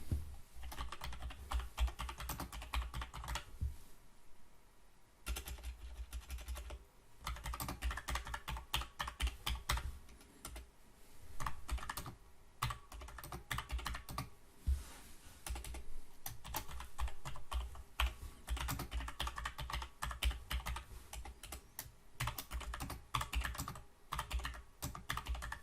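Steady typing on a computer keyboard while a blog article is written, with quick irregular keystroke clusters and short pauses, close and alone with no voices.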